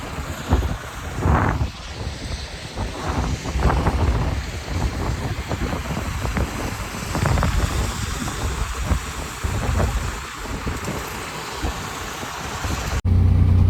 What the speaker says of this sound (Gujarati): પવન પણ એકદમ બહુ મસ્ત જોરનો આવે છે, તોડી નાખે એવો.